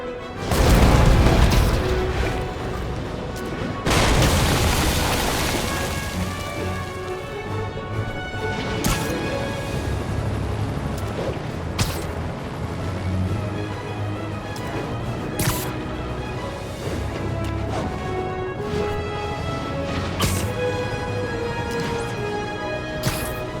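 Rockets explode in the Spider-Man Remastered video game, with two heavy, booming blasts early on, followed by scattered sharp impacts and crashes over a busy background of game sound.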